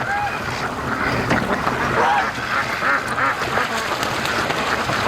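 Ducks quack repeatedly amid steady water and outdoor noise as a free-range flock rushes toward a lake, calls scattered and fairly close throughout.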